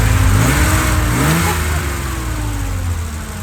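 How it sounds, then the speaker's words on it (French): A BMW 635 CSI's engine revs up hard and then settles back, its pitch climbing and falling, close and loud with no voices over it. "On peut donner du gaz"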